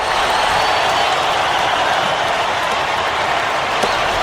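A virtual arena crowd in the NBA 2K12 basketball video game buzzes and cheers after a dunk, a steady, loud, broad roar that holds level throughout with no clear talk.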